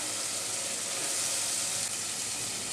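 Matar dal (split pea lentils) sizzles steadily as it fries in a pan with shrimp, a constant close hiss with no break and no talking.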